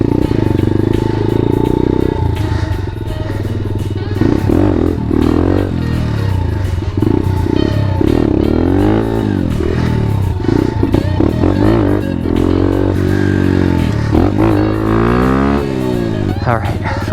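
A Grom pit bike engine during wheelie practice, revving loudly and continuously with rising and falling pitch sweeps as the throttle is worked, close and steady throughout.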